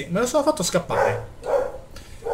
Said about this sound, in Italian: se sentite abbaiare, devo dire grazie al mio cane